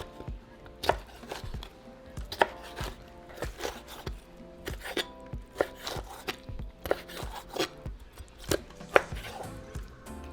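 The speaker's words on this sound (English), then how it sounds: "3 of our chile poblanos, we're going to cut them into strips" A knife cuts poblano chiles into strips on a cutting board, with sharp, close chopping taps at a steady, unhurried rhythm of roughly one to two per second and a quiet kitchen background.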